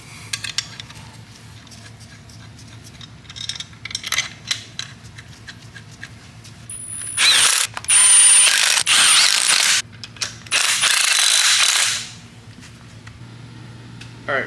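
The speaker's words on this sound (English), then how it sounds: "So I'm just going to slide these in, and then we can bolt it down." A ratchet clicks rapidly and loudly in several long runs while a CD009 six-speed manual transmission is bolted down during a swap into an SC400, with quieter clinks and tool handling beforehand.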